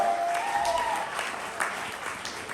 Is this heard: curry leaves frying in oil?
no